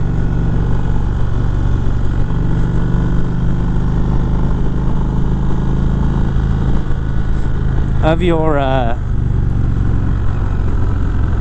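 A 2019 Indian Springfield Dark Horse motorcycle rumbles steadily while riding, with loud wind roar throughout and a brief rising engine rev near the end as the clutch is feathered.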